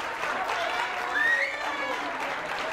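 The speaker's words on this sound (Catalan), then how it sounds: "Un aplaudiment per ells, sisplau." Audience applause at a Catalan school quiz show on a local TV channel, steady clapping from a crowd with a brief whistle over it, moderately loud and continuous throughout.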